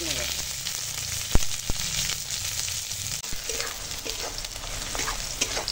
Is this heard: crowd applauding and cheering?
no